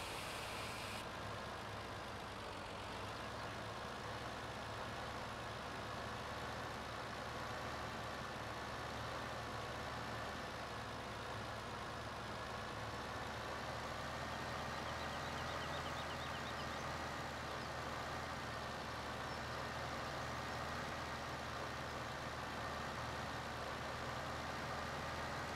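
A truck engine idles in Farming Simulator 17, a steady low rumble with a constant higher whine over it that goes on without a break, up close and fairly loud, with no talking.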